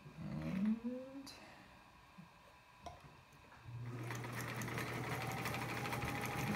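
A fully overhauled vintage Sears Kenmore 148 sewing machine runs a zigzag stitch, a steady close-up mechanical whir with a low humming drone that starts after a few seconds of quieter handling noise and continues evenly to the end.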